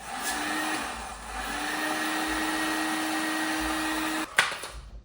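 A heat gun blows hot air onto a plastic inner fender of a Dodge Charger, a steady loud whirring drone with a faint tonal whine, cutting off abruptly near the end with a brief clatter.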